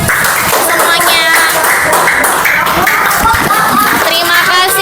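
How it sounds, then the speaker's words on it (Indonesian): A class of grade 5 primary school children claps together in a classroom, a dense, continuous patter of small hands close by, with children's voices chattering underneath throughout. "terima kasih Ratna dan Raka, tepuk tangan semuanya."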